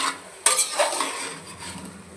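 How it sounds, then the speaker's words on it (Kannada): Chicken fry is stirred in a pan after chilli powder is added. One sharp metallic clink of spoon on pan is followed by a short run of scraping stirring, close up. "ಈ ಥರ ಚೆನ್ನಾಗಿ ತಿರುಗಿಸ್ಕೊಳ್ಳೋಣ"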